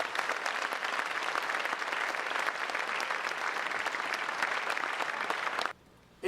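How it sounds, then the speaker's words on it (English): Sustained round of applause for football players at a college awards banquet, steady and dense for several seconds before stopping abruptly. "Let's see if we can give these guys a round of applause"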